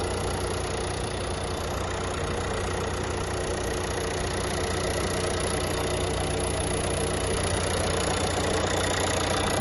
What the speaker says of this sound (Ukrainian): Так працює двигун.